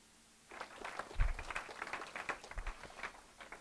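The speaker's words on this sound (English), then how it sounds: "let's everybody give John a round of applause" A small audience at a talk on gun rights claps for the speaker, a brief, scattered round of hands starting after a quiet moment and continuing moderately loud but thin.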